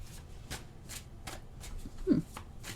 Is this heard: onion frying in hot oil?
no